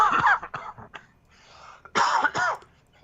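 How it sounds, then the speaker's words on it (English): A person coughs several times in quick, harsh bursts, pauses briefly, then coughs twice more, close to the microphone. "Apologize for my cough."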